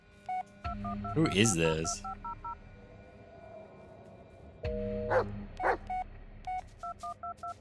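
Short electronic phone keypad tones beep in quick sequences in the Blair Witch video game, with a dog barking and people talking in between.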